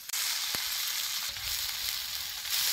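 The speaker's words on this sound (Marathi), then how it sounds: "हे चेचलेलं आहे का नाही हे तेलात असे चांगले भाजून घ्यायचं." Crushed garlic sizzles loudly in hot oil while cooked for a chickpea leaf dish. A steady, close, crackling fry continues throughout, with a faint clink near the start and no voices.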